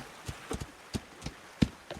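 Horse hooves clip-clop in the game Rising World as the mount heads down a hill, a few uneven steps spaced through a couple of seconds, fairly quiet and alone.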